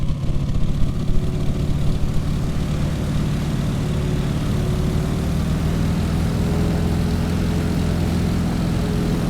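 Stearman biplane's radial propeller engine droning loud and steady through an aerobatic loop in Microsoft Flight, with a slight rise in pitch partway through and no voices.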